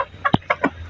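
A rooster clucks a few short, close calls in quick succession, loud and alone with no talking over it.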